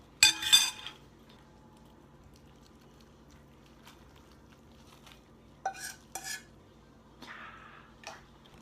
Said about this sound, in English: carrots, garlic, stir it